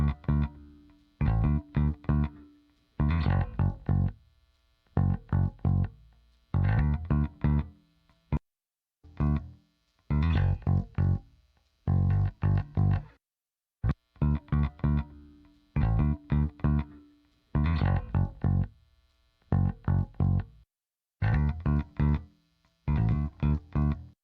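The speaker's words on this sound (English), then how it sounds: "So this is the sound of my chain on the bass." Bass guitar run through a compressor plugin chain of Acustica, API 550A and Opticomp, playing a steady groove of punchy, repeated plucked notes with short gaps between phrases, close and loud with a thick, slightly driven tone.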